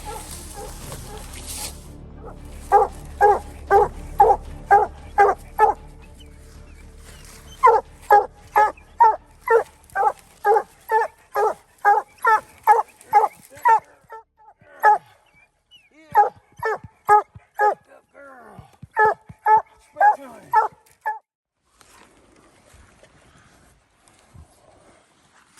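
Coon hunting hounds bark in repeated rapid bursts from a short way off on a hillside near a creek at night, volleys of loud barks separated by brief pauses, with a low rumble at the start.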